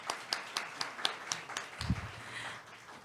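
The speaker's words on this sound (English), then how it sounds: "If we could give them a round of applause for their time today." Sparse clapping from a small group at a leadership lunch-and-learn session, several distinct individual claps in a loose rhythm, followed by a low thump and fading scattered claps.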